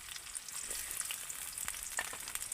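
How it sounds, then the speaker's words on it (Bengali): Chopped onion fries in mustard oil in a wok, giving a steady, close sizzle with faint crackles throughout and no voices. "এবার আমি পেঁয়াজ কুচি দিয়ে দেব"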